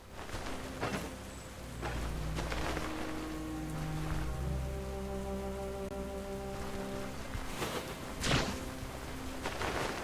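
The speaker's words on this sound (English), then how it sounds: "We're gonna be thirsty in all this rain." Steady rain falls in the Stoneshard video game, a continuous hiss with soft music tones underneath and a brief louder whoosh near the end.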